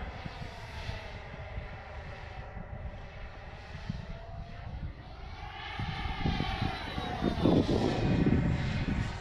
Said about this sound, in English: Fly it like a jet, because it is a jet.